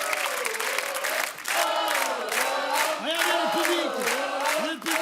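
A studio audience at a French television show applauds and cheers for a group of children, dense clapping mixed with shouts and whoops from many voices, briefly dipping before swelling again.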